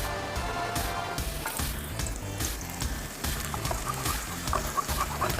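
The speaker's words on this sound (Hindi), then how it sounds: "सबसे पहले ऐड करेंगे लहसुन," Garlic fries in a pan with a moderate sizzle, broken by scraping stir sounds and soft clinks, with no talking.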